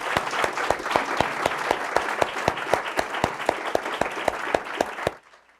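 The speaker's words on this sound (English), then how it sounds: "So a round of applause for our panelists," Audience applause for a panel of speakers at a university health equity event, steady dense clapping with regular sharp claps standing out, holding for about five seconds before cutting off abruptly.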